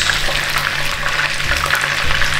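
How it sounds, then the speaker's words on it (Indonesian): Steady sizzling and crackling of ground spice paste for chicken rendang frying in a hot wok, continuous and fairly loud, with occasional soft scraping. "Lalu kita akan lanjut menumis bumbu halus."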